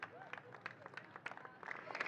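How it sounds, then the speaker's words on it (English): Scattered, fairly faint applause from a small crowd at a youth karting champions' awards ceremony in Franciacorta, Italy, with irregular individual claps growing denser toward the end. "one more big round of applause for your top three in the senior category"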